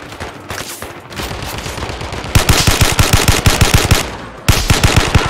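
Automatic gunfire rattles in the video game Zero Caliber: loud, close bursts of rapid shots in quick rhythmic strings, separated by short pauses, with no talk.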